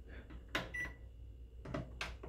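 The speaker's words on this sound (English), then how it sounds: "Okay, so we have to microwave it so it's not cold." A microwave oven heating a chicken burger hums quietly, broken by a few sharp clicks and a short beep or door sound; no talking.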